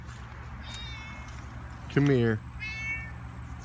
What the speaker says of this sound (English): Look, I even got cats.